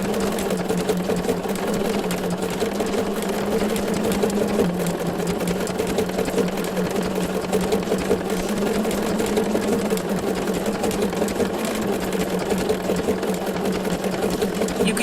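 A Bernina sewing machine stitches decorative circles, its motor humming in a steady, close, continuous whir with a fine rapid needle rhythm that holds evenly throughout.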